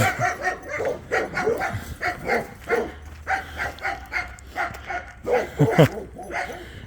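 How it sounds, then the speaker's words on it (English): Several dogs bark repeatedly in an alley, loud and close, with irregular bursts of barking and a few higher yips spread across the whole stretch. "it was probably the same type of dogs barking"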